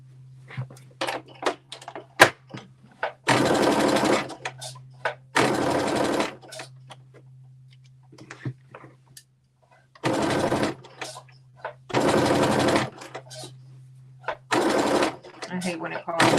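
Home sewing machine stitching a KnowMe ME2069 top into shorts on a low bobbin, running in several sustained bursts of whirring with a steady motor hum between them, alternating with close speech and small handling clicks.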